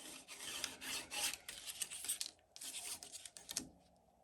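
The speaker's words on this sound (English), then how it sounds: "once I do these bends, it helps me to go along them then and make a much sharper crease" Paper for a Rolife DIY miniature flower house kit being creased along folds, a close, dry scraping rub in long strokes with brief pauses, soft and without talk.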